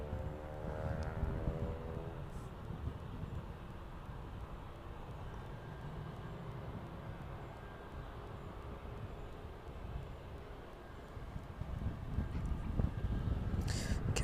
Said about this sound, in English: Commencing its taxi out down towards runway 27 then, on our service off to Lanzarote.